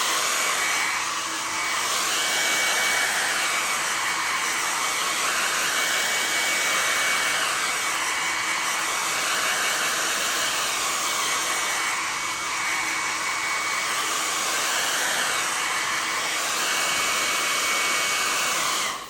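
A hair dryer blows steadily on a restored leather seat, a loud continuous whooshing roar that wavers slightly as it moves, with no talk.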